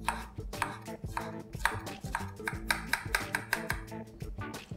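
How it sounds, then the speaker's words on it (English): A knife chops cucumber finely on a board, a quick steady run of sharp taps with a strong low thump beneath each stroke, close and loud with no talking. "Let's cut this nice and fine, almost like a salsa. Cucumber, just gonna cut it midway"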